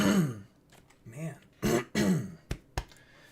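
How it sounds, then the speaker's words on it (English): Several throaty clearing sounds and rough coughs, close and fairly loud, coming in short bursts separated by pauses, ending with two quick sharp coughs. "My sister gave me this cough."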